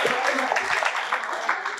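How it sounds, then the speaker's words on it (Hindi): A studio audience on a quiz show applauds a contestant after a correct answer. The clapping is broad and continuous, with voices mixed in beneath it. "जोरदार तालियां सुबर्णा जी के लिए"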